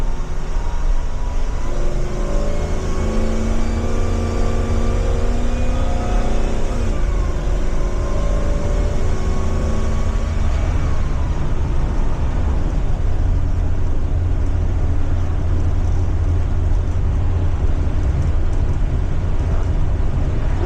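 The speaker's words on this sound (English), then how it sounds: "those ones do high idle the motor and they kick the radiator fan on full blast just like this" A 2027 Blue Bird Vision school bus with a 7.3 engine holds a high idle, a loud, steady, close drone with the radiator fan roaring on full blast, continuous throughout with a faint shifting whine early on.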